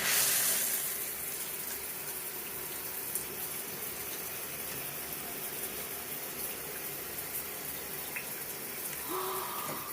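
A newly installed showerhead sprays water in a steady, loud, broadband hiss that runs unbroken for ten seconds with no talking.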